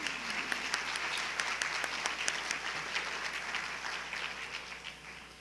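A steady round of applause from the audience at the 2017 North Carolina National History Day awards ceremony, honoring four schools. The dense, even clapping is heard alone and at moderate distance, fading slightly toward the end.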